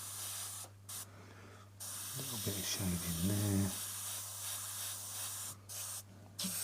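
Airbrush spraying paint onto a masked model scene, steady hissing bursts that start and stop, with a voice talking over the middle stretch.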